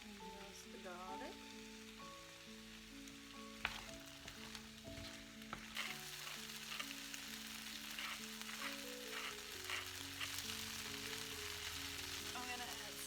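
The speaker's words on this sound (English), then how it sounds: "Some chili. And roast the garlic." Garlic and chili sizzle and crackle as they roast in a hot pan, a steady bed of frying noise that runs throughout, with no talking.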